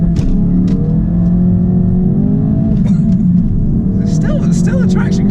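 A 2016 Ford Focus RS launches hard under launch control with the clutch in and throttle floored. A loud, steady engine roar builds and pulls up, with a voice briefly heard near the end.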